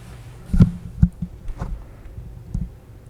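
Scissors trim excess card off the back of a handmade shadow box card, giving a few close, crisp snips spaced irregularly with quiet pauses between and no talking.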